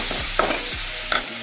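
Two chopped tomatoes going into a hot frying pan with ginger-garlic paste for crab masala, producing a brief sizzle with quick scraping stirs of a spoon, close and clear.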